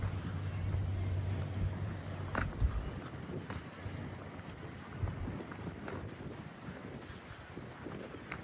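Strong wind buffeting the microphone at Bridlington harbour, a steady low rumble and roar that surges at the start and continues throughout, with faint harbour noise beneath.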